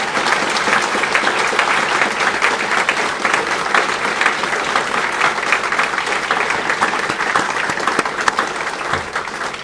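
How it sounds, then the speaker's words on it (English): A graduation ceremony crowd at the Navy Supply Corps School gives its staff a round of applause, steady, loud clapping from many hands filling a large hall without a break. "help me give them a round of applause"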